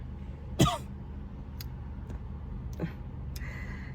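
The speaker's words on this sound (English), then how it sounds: "he still has a little cough" A single sharp cough from a man with a lingering cough, followed by a few faint clicks and a softer throat sound in a quiet room.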